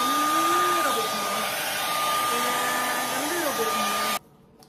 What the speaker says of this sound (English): So that just is for the blowing of a dryer